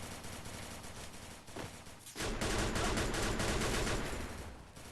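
Gunfire in the Free Fire video game crackles in dense rapid bursts, a continuous fusillade that swells louder after a brief lull partway through, with no voices.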